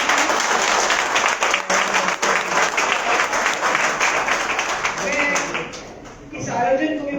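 Sustained, loud applause from an audience at an event, steady clapping filling most of the clip before tapering off at the end.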